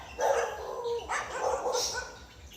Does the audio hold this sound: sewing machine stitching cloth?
no